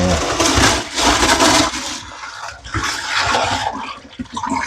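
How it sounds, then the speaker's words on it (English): Tap water runs loudly into a sink while a rock tumbler strainer is rinsed under it, a steady rushing splash that swells and dips for several seconds with no talk. "Give this a little extra rinse."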